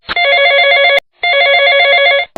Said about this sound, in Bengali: কার ফোন এলো?